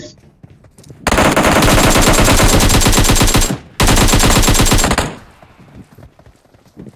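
Rapid automatic machine-gun bursts from a shooting video game, loud and close, one long sustained burst of about two and a half seconds, a brief gap, then a second burst lasting over a second before fading into quiet.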